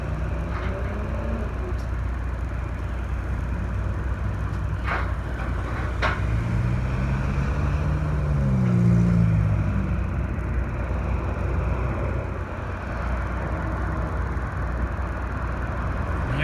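A covered car carrier truck hauling Genesis cars rumbles in outdoors near a mall in Bedford, Nova Scotia, its low engine drone growing slightly louder and then easing, moderately close, with no talking.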